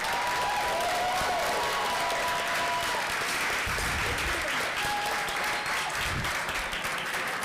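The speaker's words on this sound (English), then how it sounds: "huge round of applause for the whole team" A crowd at a glassblowing studio's Third Friday event applauds the glassblowing team, loud, continuous clapping that fills the room for several seconds, with a little cheering and talk mixed in.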